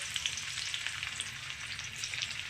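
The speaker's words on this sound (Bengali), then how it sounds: "তারপর রসুনটাকে একটু হালকা ভেজে নেব" Chopped garlic dropped into hot oil, a dense, continuous crackling sizzle close by, steady and without speech.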